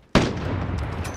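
A sniper rifle trick shot fired in a video game: one loud, sharp close-range report with a long, rumbling tail that decays slowly over the following second.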